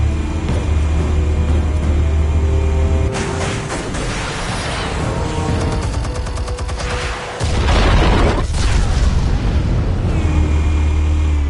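Explosives detonating in the Batman Telltale Series game, a loud booming burst with crackling gunfire-like bursts over a dense, sustained rumble and musical score, one heavy impact standing out near the middle.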